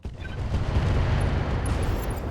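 An ammunition explosion destroys a mech in the RogueTech battle game, a sustained rumbling blast with dense crackling debris that swells quickly and holds at a loud level before slowly easing off.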